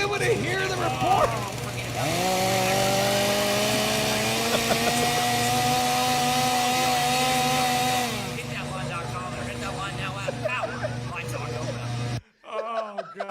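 A chainsaw runs near a live sports radio show broadcast, its engine drone held at a raised, steady pitch for several seconds before dropping away, with voices talking around it.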